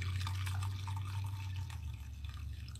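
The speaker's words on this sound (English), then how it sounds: "I'm gonna pour my coffee on top of it." Hot coffee pours over a peanut butter cup in a mug, a steady liquid splash and trickle with a low hum beneath, close and fairly faint, easing off toward the end.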